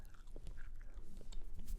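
Close, wet chewing of two pieces of gum at once, with soft smacking and biting sounds repeating steadily throughout the short moment, no voices over it.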